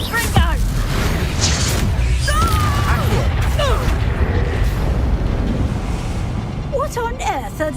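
Confringo spell explosions in the Hogwarts Legacy video game: repeated booms and crashing blasts, loud and near, mixed with shouted voices and chaotic battle noise.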